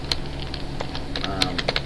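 Keys clatter on a computer keyboard while an order is entered into a point-of-sale system, with a quick, uneven run of close taps and a steady hum underneath.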